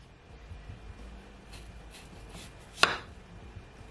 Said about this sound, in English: So now I'm just gonna cut up my cucumber